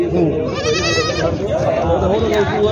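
Goats bleat loudly and repeatedly close by, wavering cries overlapping amid a busy crowd with people talking at a large goat and sheep market in Maharashtra.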